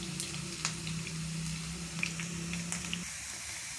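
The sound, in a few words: onions frying rapidly in a pan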